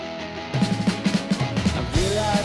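A band plays a mid-tempo song with a steady bass pulse and layered guitars, loud and full throughout.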